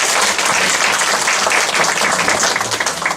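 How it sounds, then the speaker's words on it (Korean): A church congregation applauds the visiting orchestra, a dense, loud burst of steady clapping close by, sustained throughout. "뒤에 준수 첼로까지 있는데 박수로 다시 한번"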